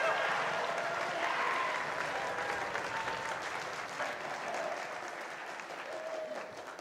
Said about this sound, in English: give them a round of applause to thank them